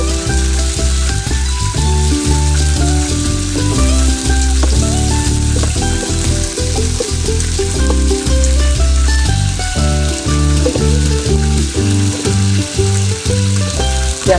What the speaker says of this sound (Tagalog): habang nagpiprito tayo ng isda,